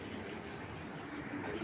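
Racer pigeons coo softly in a short, faint burst, a low murmuring call that rises slightly near the end against a background hum.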